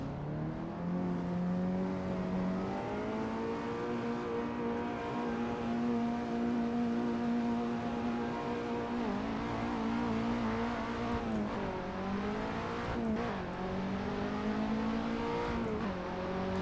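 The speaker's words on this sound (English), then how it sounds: "I think I bounced on the rev limiter a little too much." A Porsche GT3 Cup race car in the rFactor 2 racing game, its engine droning loud and steady at high revs, pitch wavering and dipping repeatedly as it bounces off the rev limiter, no talk.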